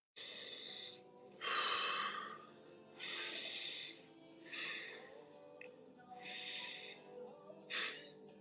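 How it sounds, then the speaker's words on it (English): Deep breaths are drawn in and pushed out through the nose and mouth in slow, airy, hissing pulses, about six phases across three breaths, close to the microphone with no talking. "Take 3 deep breaths"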